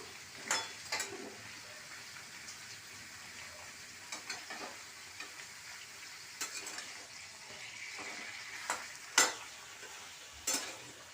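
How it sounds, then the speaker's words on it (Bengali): Bottle gourd and paneer being stirred in a cooking pan: repeated scraping, clinking strokes of a utensil over a faint, steady sizzle, close and fairly quiet. "পনির সুন্দর করে নেড়ে চেড়ে দিলাম"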